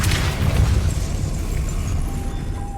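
Depulso spell effect in the video game Hogwarts Legacy: a loud, booming blast with a rumbling low roar that stays heavy and then fades slightly over about three seconds.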